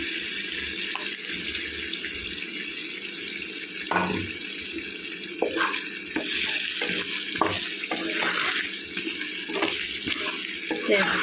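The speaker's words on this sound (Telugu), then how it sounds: "ఉడికిందండి ఇప్పుడు టమాటా పేస్ట్ వేసుకోవాలండి ఇందులో" Tomato paste is stirred into a frying egg and potato curry, producing a steady sizzle broken by repeated scraping and clinking stirs of a spoon in the pan.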